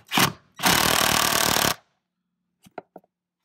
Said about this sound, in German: Und dann nehmen wir unseren Schlagschrauber